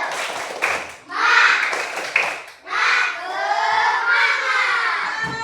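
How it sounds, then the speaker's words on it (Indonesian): Classroom of primary school pupils doing the rhythmic 'tepuk semangat' clap, loud bursts of group clapping mixed with children chanting and shouting in unison, filling the room. "Sekarang biar semangat, tepuk semangat dulu."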